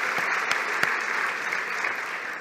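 An audience at a diploma ceremony claps steadily from start to finish, a dense, even applause with a few sharper claps standing out near the front.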